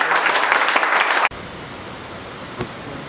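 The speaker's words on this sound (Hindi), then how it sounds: "एमडी पर जोरदार ताली बजाओ" Brief burst of loud, dense applause during a live online repair class, lasting just over a second before cutting off abruptly into a steady low hiss.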